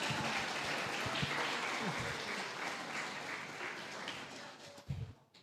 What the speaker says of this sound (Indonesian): Loh, kok tepuk tangan?